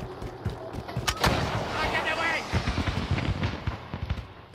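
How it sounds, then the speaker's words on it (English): Gunfire in a video game rattles out in sharp cracks and booming reports, dense and fairly close, layered under excited voices of players chatting. "Lance? Are you getting shot at?"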